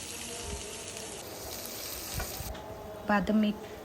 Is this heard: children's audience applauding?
no